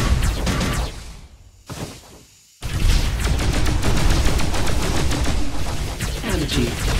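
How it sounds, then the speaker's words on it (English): Frost cannon weapon in the space shooter Descent Underground fires in rapid repeated bursts, loud and dense, with a brief lull before the barrage resumes. "Frost cannon."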